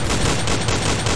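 AK-47 gunfire in a Turkish roleplay video game, a dense, continuous burst of loud rapid shots filling the whole moment with no pauses.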